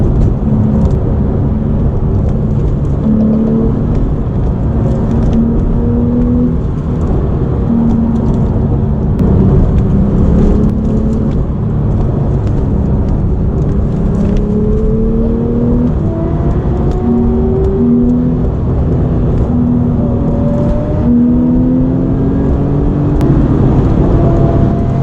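A turbocharged Porsche 911 accelerates hard along a winding road while chasing a GT3 RS, its engine droning loud and steady throughout with repeated rising pitch sweeps as it climbs through the gears, heard from inside the car with no talk.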